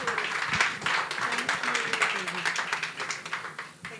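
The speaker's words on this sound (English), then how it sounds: "Can we please give Rachel another round of applause?" A conference audience applauds the speaker Rachel with a steady, moderately loud patter of clapping that continues throughout the clip, with a voice speaking over it.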